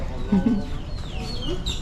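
Birds with an exotic, fowl-like clucking call out at night on a San Antonio outing, fairly close and loud, with chattering calls scattered through the moment and a little human voice mixed in.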